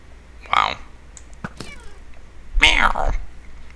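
Cat meowing, two loud close meows about two seconds apart with a short faint cry between, heard alone without talk.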